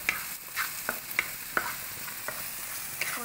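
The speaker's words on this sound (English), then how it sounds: "I'll increase it a bit and then saute it" Vegetables for fried rice sauté in hot oil in a pan, a steady close sizzle broken by repeated scraping strokes of a spatula, with no talking.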